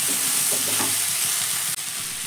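Peas, chopped tomato and winter vegetables being stirred as they fry in a pan, with a constant sizzle and a few scraping strokes of the spoon near the start.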